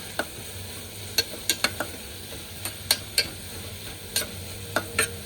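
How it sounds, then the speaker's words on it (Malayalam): Sliced onions sauté in hot coconut oil with a low continuous sizzle, punctuated by sharp irregular scrapes and taps of a spoon stirring the pan, close and alone without voices. "വെളിച്ചെണ്ണയിൽ സവാള ഇട്ടു"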